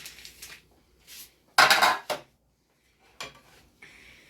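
A metal pan scraped and clanked as it is taken out and handled in a home kitchen while cooking ground turkey for cheese steaks, with several separate bursts of clatter, one loud scrape in the middle, and quiet gaps between.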